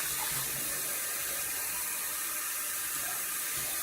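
Warm water runs from a tap into a container for a baking soda hair rinse, a steady bright splashing stream that holds constant and close throughout, with no speech.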